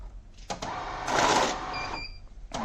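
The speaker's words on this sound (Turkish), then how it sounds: "Makine 400 4500 saydırdı." Hitachi IH-110 mixed banknote counting machine running a batch, a steady whirring, fluttering rush of bills with a brief mechanical clack at the start and end, close and fairly loud with no talk.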